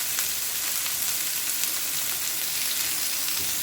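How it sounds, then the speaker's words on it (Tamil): Curry leaves sautéing with onion, green chilli and ginger garlic paste in a pan, a soft, steady crackling sizzle throughout at moderate distance. "கருவேப்பிலை போட்டு இதை நல்லா வதக்கி வச்சுக்கலாம்"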